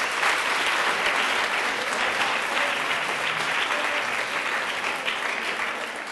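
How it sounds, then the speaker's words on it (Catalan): A studio audience on a spelling game show breaks into sustained, full applause, many hands clapping at a steady loud level that eases slightly toward the end. "Un aplaudiment, sisplau."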